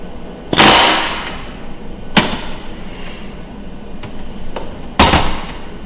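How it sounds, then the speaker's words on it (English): Rivets on an aircraft pilot's door being tapped with a bucking bar held against the rivet tail during a Fleet Canuck restoration: three sharp metallic taps with ringing decay, spaced a couple of seconds apart, with fainter knocks between. "I'm actually holding the bar to the side of the tail of the rivet and just giving it a little tap"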